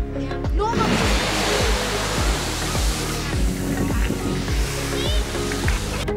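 Europe's largest waterfall roars with water falling, a steady broad rushing wash heard up close, with a low rhythmic pulsing underneath and faint voices.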